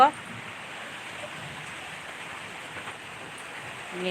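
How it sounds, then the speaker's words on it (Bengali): Rain falls all around in a steady, even hiss that carries on for the whole stretch at a moderate level, with no voices over it. "দেখুন আমাদের এখানে কত বৃষ্টি দেখুন বৃষ্টি পড়ছে চারিদিকে"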